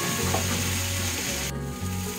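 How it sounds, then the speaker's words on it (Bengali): Pointed gourd and onion frying in a pan, a steady close sizzle with a low bubbling undertone and occasional stirring, continuous throughout without speech. "এবার এগুলোর সাথে পটলটার পেঁয়াজটা একটু ভাজা ভাজা হবে।"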